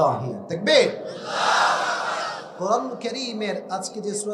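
At an Islamic sermon gathering, a large crowd shouts the takbir (Allahu Akbar) in a loud, surging chorus of many voices, with a leading voice calling before and after.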